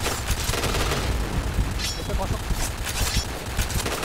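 Gunfire and a grenade blast in a multiplayer shooter video game, with bursts of rapid shots and booming impacts crackling at mid distance while players talk over the action.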